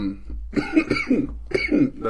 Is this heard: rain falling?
no